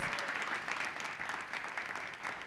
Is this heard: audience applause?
yes